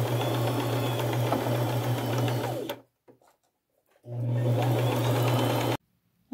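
A sewing machine stitches pink lace along the edge of an upcycled shabby chic necklace, running steadily in two loud close bursts separated by a pause of near silence.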